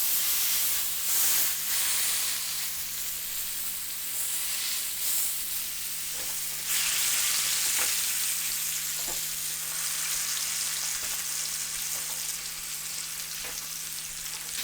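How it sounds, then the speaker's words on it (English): Beef tenderloin sears in a smoking hot pan, giving a steady, loud sizzling hiss with faint crackles and soft scrapes throughout, and no voices. "Got the pan smoking hot. Just gonna toss this in and sear it right off."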